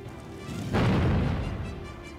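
A single heavy bomb blast in the SPELLBIND video game, a deep booming burst that hits sharply, swells and slowly rolls off, with steady background noise before and after and no voices.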